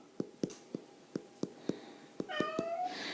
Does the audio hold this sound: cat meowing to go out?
yes